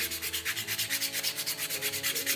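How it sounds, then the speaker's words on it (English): Sandpaper rubs by hand over a carved wooden lovespoon in quick, even back-and-forth strokes, a steady rhythmic rasping heard close and alone. "This is a very, very quick demonstration of how we sand."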